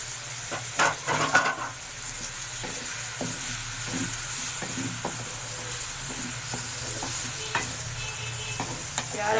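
Onions for chicken karahi sizzle steadily in hot oil in a pan, with repeated scraping stirs of a spoon throughout; the frying is close and continuous, with no talking.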